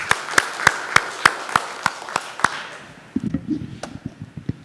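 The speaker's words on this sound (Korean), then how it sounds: "우리 박수로 또 격려해 주시기 바랍니다." Audience clapping at a Korean church worship service: a slow run of sharp, evenly spaced claps, then a looser patter of scattered hands and faint murmuring as the applause tapers off.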